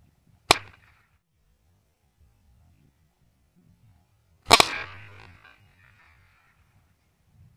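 A folded paper popper snapped open by a sharp pull, two loud cracks about four seconds apart in a quiet room, the second followed by a brief rustle of paper.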